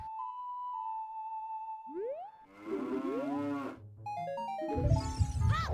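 A cow in the video game Ocarina of Time lets out a loud, synthetic moo after bright ocarina-like melodic notes, with more chiming tones following, all up close and with no talking.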